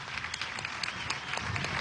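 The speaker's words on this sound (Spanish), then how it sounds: "Vamos a darle un aplauso a Silvia." A crowd at a public housing handover event in Nueva Esparta applauds in a short, distant burst of steady clapping.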